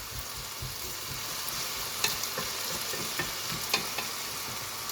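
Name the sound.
potatoes searing in a pan for tajine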